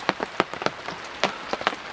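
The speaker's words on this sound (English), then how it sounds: "And the rain set in." Rain setting in outdoors in the bush, heard as scattered close drops pattering and tapping irregularly on a surface over a soft background hiss.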